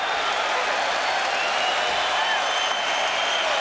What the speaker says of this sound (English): You are going to hear a bellow from the crowd.